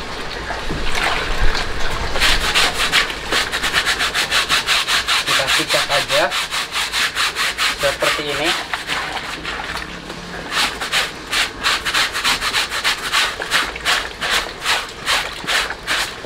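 A backpack is scrubbed by hand with soap during washing, giving steady, close, rhythmic rubbing strokes with a slightly wet brushing texture that continues without pause throughout.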